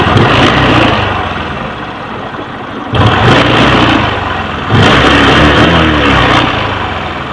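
Kawasaki LS 135 motorcycle engine revving after carburetor mixture tuning, a steady close engine drone that swells in two bursts of throttle and settles back between them, with no talk.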